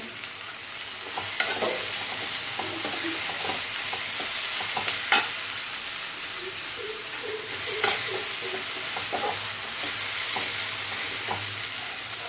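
Shallots fry in a pan for a squid roast, hissing steadily while a spoon scrapes and stirs in irregular strokes close by, with no voices.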